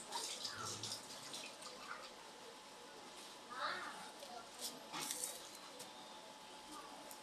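Onions being rinsed under running tap water at a kitchen sink, a soft steady water hiss with brief splashes, faint and with quiet talk in the background.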